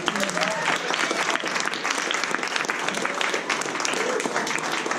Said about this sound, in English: Give me one more round of applause.